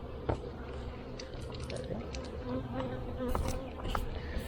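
Steady insect buzzing close by, a dense drone of many bees with occasional louder passes and faint background noise.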